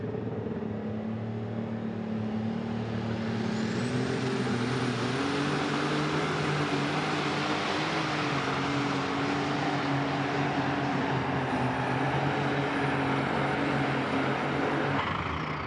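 A super modified pulling tractor roars at full power during a Pro Pulling tractor pull in Farley, with a loud, sustained engine blare that holds steady for the whole stretch and barely changes in pitch.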